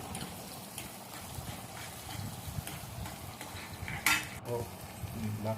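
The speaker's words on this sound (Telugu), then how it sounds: "ఆయిల్ వేసి కొద్దిసేపు ఫ్రై చేయండి ఫ్రెండ్స్. ఫ్రై చేసిన తర్వాత వేరుశనగపప్పు వేయండి ఫ్రెండ్స్." Peanuts fry in hot oil in a pan, a steady moderate sizzle with light stirring scrapes and a sharp metallic clink near the end.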